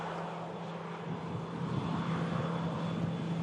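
Airbus A380 airliner engines at Manchester Airport during a stormy day, a steady, broad roar that holds for the whole stretch and swells slightly midway, with no voices.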